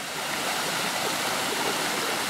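A hidden waterfall at Jacutinga pours in a steady, broad rushing roar, close and constant with no talk.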